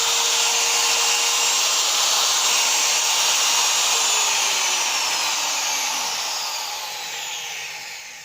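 Electric wood profile trimmer running without load, a loud steady high-pitched motor whine that slowly fades and drops slightly in pitch toward the end.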